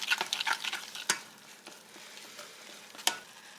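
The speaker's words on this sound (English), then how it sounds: "Stir that around in there." Ramen noodles being stirred with their seasoning in a pot, soft wet sloshing and a few sharp utensil clinks against the pot, faint and close with no talking.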